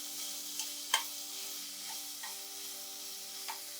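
Lots of sliced onion sautéing for mutton kulambu: a steady close sizzle runs throughout, with a few sharp spoon knocks and scrapes against the pan and no talk.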